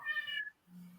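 A cat meows once, a short high-pitched call at moderate distance, followed by a faint low murmur in an indoor room.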